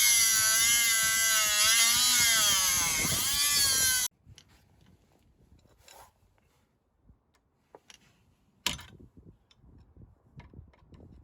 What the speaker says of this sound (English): so I'm just going to Dremel it off.